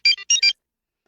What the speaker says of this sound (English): So there's little beeping.